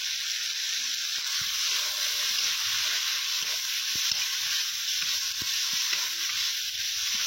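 Spices with salt and chilli powder sizzle steadily in a pan over onion and tomato, a continuous close frying hiss with faint clinks of stirring, no voices.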